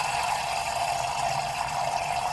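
Water streams steadily into an automatic self-filling dog bowl, a constant nearby gushing trickle with slight mechanical rattle, unchanging in level from start to finish.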